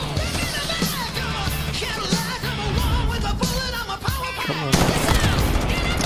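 Dense rapid gunfire and bursts from a Call of Duty Modern Warfare beta multiplayer match, loud and continuous with overlapping shots and impacts throughout, no talk.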